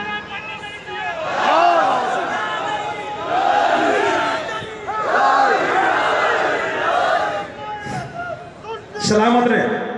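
A crowd at a religious gathering answers a slogan with loud collective chanting in repeated surging bursts, voices massed and echoing, with a short lull before a final swell.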